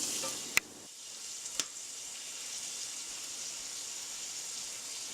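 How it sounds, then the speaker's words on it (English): Beans sizzle steadily in a pan with a soft, continuous frying hiss, broken early by two sharp clicks of a utensil scraping the pan bottom during stirring. "Stir it all up, making sure to scrape off the fond at the bottom of the pan."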